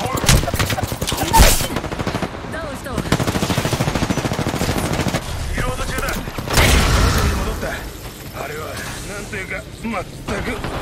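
Rapid automatic gunfire from Apex Legends played on PS4 rattles through a chaotic firefight in repeated loud bursts, with mechanical clanks and reload sounds between volleys, under a running stream of player talk and game voices.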